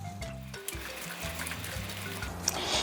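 Water pours steadily into a bowl of kimchi pancake batter made with frying mix and pancake flour, a continuous close trickle with faint low background hum and no talk.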